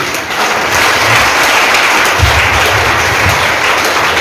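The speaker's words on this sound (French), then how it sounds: "Acclamons le Seigneur" A church congregation claps at a Christmas service, producing loud, dense, continuous applause that fills the whole stretch without pause.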